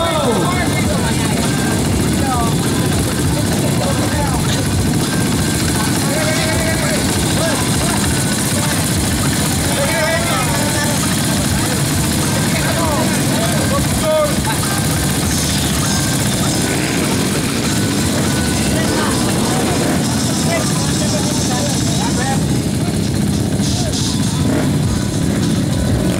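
Trail motorcycle engines run together at a community trail ride gathering, a loud continuous droning rumble throughout with voices talking underneath.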